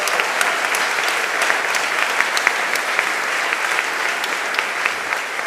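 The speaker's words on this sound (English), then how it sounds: "the incredible performance that we just watched, let's give them another round of applause" Round of applause for performers at a CityLab conference in Amsterdam, a sustained roar of many hands clapping with sharp individual claps popping out from the dense crowd sound.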